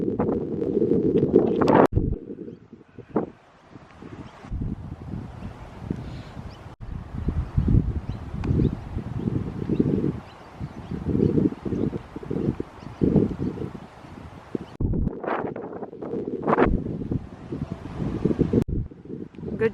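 Strong wind sweeping across a golf course during a junior golf competition, buffeting the microphone in loud, irregular low-pitched gusts that come and go in bursts.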